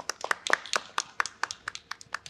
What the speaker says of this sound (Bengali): আবারও করতালি